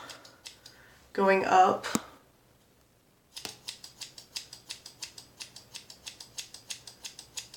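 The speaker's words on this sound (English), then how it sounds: "I'll take the longest pieces and I just trim off a little bit" Sharp scissors trim long diagonal pieces of fine-hair bangs, a rapid run of regular crisp snips close by after a brief spoken phrase and a short pause.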